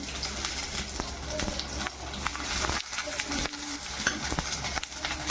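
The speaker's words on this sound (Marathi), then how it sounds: "कढईत मी थोडा तेल टाकून ठेवलं आहे तेल आपलं गरम झालं आहे दालचिनी आणि लोंग तेलात टाकून घेते मी" Cinnamon, cloves and sliced onion frying in hot oil in a wok, a continuous sizzle broken by repeated scraping stirs, close and fairly quiet, with no speech.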